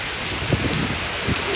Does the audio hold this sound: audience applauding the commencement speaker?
no